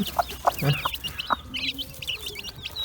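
A bantam hen with her chicks clucks in a few short, spaced calls near the start, while high peeping chicks chirp steadily throughout the rest.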